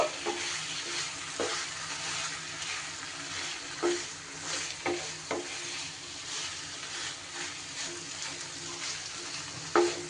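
Fried prawns being stirred into a masala gravy in a pan, a continuous soft sizzle broken by repeated spatula scrapes and knocks every second or two.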